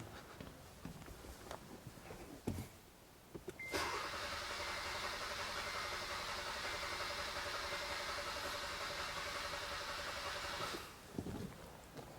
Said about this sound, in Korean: 자, 이제 크랭킹을 해보도록 하겠습니다.